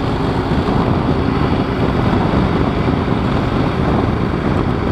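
A Yamaha Super Ténéré, a tall, heavy adventure motorcycle, cruises steadily along a road, its engine drone blended with constant loud wind rush and no pauses over the whole stretch.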